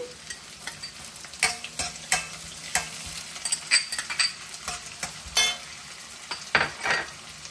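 Chilies, with chopped garlic, are tossed into hot oil for dal khichdi, sizzling quietly while a spatula stirs and scrapes the pan in repeated sharp strokes, up close.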